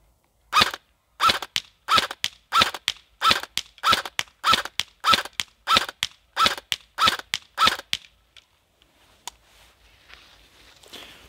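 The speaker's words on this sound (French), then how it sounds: "On va faire entre 5 et 10 tirs sur la cible pour voir le regroupement des billes." Fourteen evenly spaced sharp shots from a stock CSI XR5 STAR airsoft replica firing pellets at a target, each a crisp snap about half a second apart and close by, then a quiet tail with a faint stray click.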